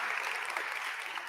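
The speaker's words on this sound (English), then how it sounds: "I think another round of applause will be" Applause from a conference audience at an urbanisation forum, a steady, even patter of many hands filling the whole short stretch without pause.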